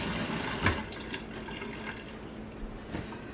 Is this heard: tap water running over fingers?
yes